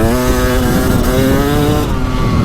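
A 2024 Beta 300 Race Edition two-stroke dirt bike engine with a counterbalancer revs hard and close up, a loud, sustained buzzing wail that holds steady before easing off near the end.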